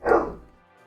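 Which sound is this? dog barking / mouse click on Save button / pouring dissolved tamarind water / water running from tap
dog barking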